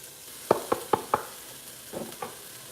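Peas and carrots go into a hot skillet, giving a quick run of four sharp clattering hits followed by a softer pair and a low sizzle, close and clear with no talking.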